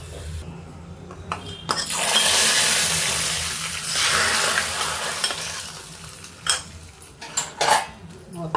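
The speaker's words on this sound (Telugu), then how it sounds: "తాలింపు అయితే వేసేసుకుందాం." Hot tempering of dried red chillies and curry leaves sizzles loudly as it is stirred into a pot of tomato rasam. The frying hiss swells and fades, and a metal spoon clinks sharply against the pan several times near the end.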